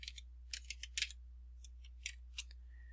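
Faint, close keystrokes on a computer keyboard while a spreadsheet formula is entered, coming as a quick cluster of taps and then a few scattered clicks over a low steady hum, with no speech.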